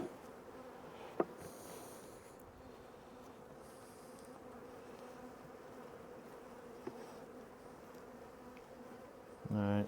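Honey bees buzz softly around an open hive during a spring inspection, a faint continuous hum with a couple of sharp clicks from handling and a louder knock at the end.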